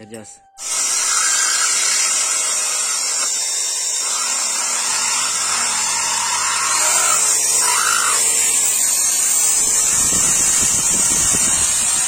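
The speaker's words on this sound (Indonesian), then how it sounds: "Ini pengeboran untuk gas spontan ya. Proses pencowakan ya guys." A Wave motorcycle part is drilled and hollowed out during custom modification in a workshop, making a loud, continuous high whining hiss that starts abruptly and holds steady for the whole stretch.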